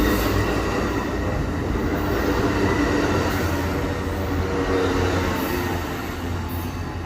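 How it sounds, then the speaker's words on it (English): The northbound Amtrak Coast Starlight 14 passenger train passes close by with a loud, continuous rumble of wheels and cars. The roar stays steady throughout, with faint squeals and no voices. "And there it is, Amtrak Coast Starlight 14, northbound."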